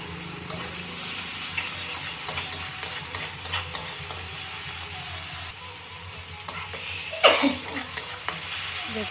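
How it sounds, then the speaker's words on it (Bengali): A tomato masala with a pinch of sugar sautés in oil for a prawn oil jhal, making a continuous sizzle with intermittent spatula scrapes and a sharper clatter near the end, and no one speaks. "দেখুন বন্ধুরা কষানোটা কত সুন্দর তেল ছাড়া হয়েছে।"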